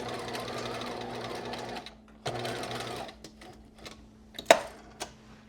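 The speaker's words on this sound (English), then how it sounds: "when I get to the end, I'm going to back stitch again" A sewing machine runs in a steady burst while back stitching the end of a knit skirt seam, pauses, then makes a second short run, followed by a few light clicks and taps.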